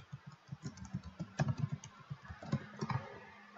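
Quick, uneven keystrokes clatter on a computer keyboard at close range, a steady run of light clicks with a few louder taps, and no voices over it.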